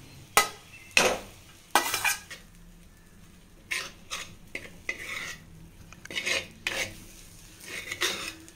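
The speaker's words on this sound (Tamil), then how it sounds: "இப்போ வந்து அந்த சாப்பாடை அதில் கொட்டி கலரிடலாம்." Cooked rice being stirred and mixed on a plate with prawn rice, giving a series of scraping, clinking utensil strokes in irregular bursts, fairly close, with no talking.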